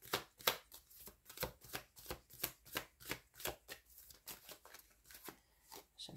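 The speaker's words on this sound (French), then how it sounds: "Une dernière carte, s'il vous plaît." Tarot cards are shuffled and drawn up close, a quiet, rapid, rhythmic run of crisp papery riffles and flicks that repeats steadily with no talk.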